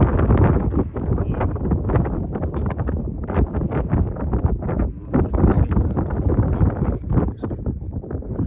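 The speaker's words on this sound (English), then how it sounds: "It's a bit windy." Steady wind buffeting a microphone outdoors, a continuous rumbling roar with gusty fluctuations throughout.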